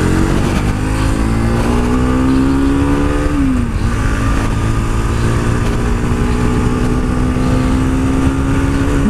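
A Bajaj Pulsar AS200 motorcycle engine climbs a hill at Lavasa, loud and close, holding a high drone that dips and then rises again as the throttle is worked.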